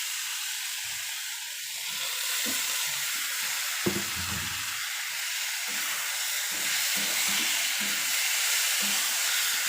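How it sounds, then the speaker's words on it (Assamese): Potato and squash pieces fry in hot oil for a fish curry, giving a continuous loud sizzle with occasional stirring clatters and a sharp knock partway through. "ভালদৰে ভাজিব লাগিব"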